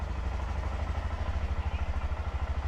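A Honda Monkey motorcycle engine has just started and idles close by in an apartment complex, giving a low, rapid, even putter throughout with no talking.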